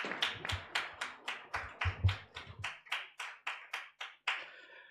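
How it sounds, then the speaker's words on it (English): A small conference audience claps in a slow, distinct rhythm, each clap separate and fairly close, with no talk. "Let's give them a clap as they sit."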